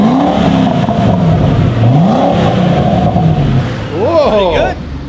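Supercharged car engine revving up and easing off several times, loud and close with a rising and falling whine, and people talking over it.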